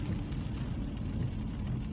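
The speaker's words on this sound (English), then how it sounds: "It is so raining." Steady rain falling outside, a dense, even hiss of rainfall with no breaks, moderately loud and unaccompanied by talk.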